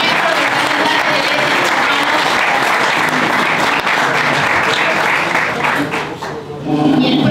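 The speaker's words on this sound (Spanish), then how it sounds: "Fuerte aplauso para Gerardo también." A crowd applauds loudly and continuously at a Javier Milei conference in Tucumán, a thick, unbroken roar of clapping that dips briefly near the end before surging again, with a voice faintly present beneath it.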